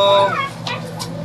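A chicken clucks close by, short harmonic calls at the start followed by a couple of sharper squawks, with a faint hum underneath.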